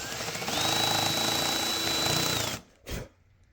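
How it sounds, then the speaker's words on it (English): End mill side-drilling into scrap wood on a milling machine during a guitar build, a loud steady grinding whine with a rising tone that holds for about two seconds, then cuts off abruptly, followed by one brief bump. "End mills are not really intended for side drilling, but it's possible, as you can see."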